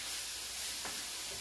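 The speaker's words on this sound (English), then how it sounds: "I'm just stirring to mix all of the spices and the flavors together." Spices being stirred in a cooking pan for an Indian fusion rice pilaf, a soft steady sizzle and hiss with a brief scrape of the spoon, faint and close, with no talking.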